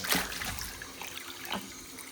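Water runs from an old, stiff tap into a sink, a steady close splashing trickle with a couple of brief sharper splashes.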